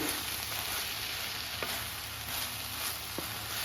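Coriander seeds and cumin fry in a pan, giving a steady bright sizzle with a few soft crackles and no talk.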